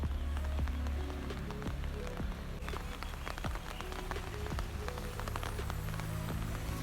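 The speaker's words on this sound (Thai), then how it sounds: "มาเจอกัน ในยาม ฝนตกนะครับ ฝนตกหนักนะครับภาคใต้นะครับ" Heavy rain pouring down in southern Thailand, a continuous dense patter of drops striking surfaces with scattered sharper taps, steady and close throughout.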